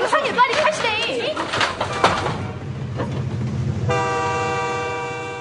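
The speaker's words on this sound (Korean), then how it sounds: "기차는 속도를 조금도 늦추지 않은 채로 그들을 지나쳐 가고 말았다." A train rushes past at full speed without slowing, its horn sounding in a long steady tone near the end, loud and close, following a noisy rolling rumble.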